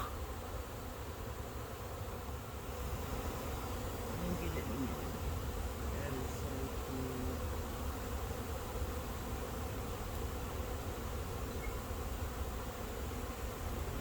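A honey bee swarm moving into a swarm trap makes a steady, dense buzzing hum from start to finish, loud and unbroken, with no talking.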